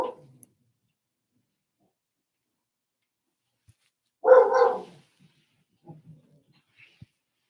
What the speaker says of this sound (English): It's just another dog walking by the house.